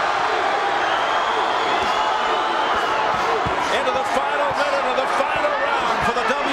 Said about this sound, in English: Another part of the crowd chanting, Paulie, Paulie